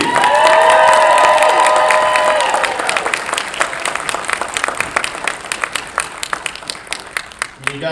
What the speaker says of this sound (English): give a huge round of applause for Eman Esfandi!